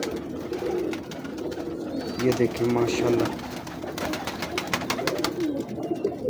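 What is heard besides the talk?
Teddy breed pigeons cooing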